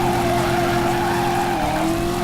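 A car in the PS1 driving game Driver revs hard and skids, a loud, constant engine roar with a high tonal whine and tire squeal running throughout.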